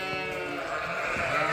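Young lambs bleat continuously in a sustained, nasal cry, loud and close, with no talk over it.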